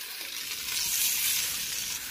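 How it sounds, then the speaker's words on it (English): A beef pot roast sears in a hot pan, giving a steady, close bright sizzle that swells slightly in the middle, with no voices. "And I'm also gonna sear this side."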